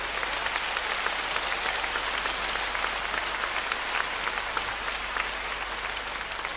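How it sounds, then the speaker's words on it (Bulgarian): Steady, dense applause from a concert audience, a broad even wash of many hands clapping continuously at close range with no voices on top. "Благодаря и на всички вас за страхотните аплодисменти"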